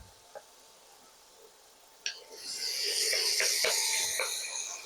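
Ground beef sizzles in a pan, a faint quiet start with a couple of clicks giving way to a steady, hissing sizzle punctuated by scraping stirs.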